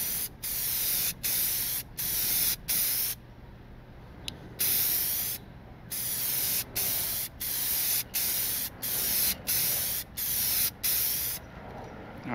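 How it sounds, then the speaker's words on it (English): Clear coat sprayed from an aerosol can onto a car headlight: a series of short, sharp hissing bursts with brief pauses between them, close and fairly loud, with no talking. "I'm just gonna go ahead and finish clear coating this"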